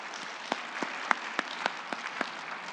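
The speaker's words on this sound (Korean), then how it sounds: "박수, 격려의 박수 한번 보내요." A church congregation at Sunday worship claps in encouragement for an elder recovering from a leg injury, a fairly soft, steady patter of many hands with a few sharper individual claps standing out.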